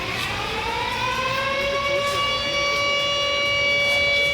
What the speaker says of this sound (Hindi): गवाल मंडी में खतरे के सायरन बजा दिए गए।